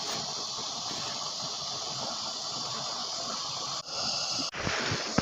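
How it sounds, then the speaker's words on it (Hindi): Carrots boil in water in a covered pot, giving a continuous steamy hiss and bubbling roar, steady and close, briefly dipping twice near the end as if the lid shifts. "हमारे गाजर पानी में उबलना शुरू है।"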